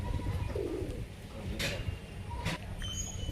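Pigeons coo softly in a loft in a low, repeated murmur, with a few brief higher bird chirps over steady background noise.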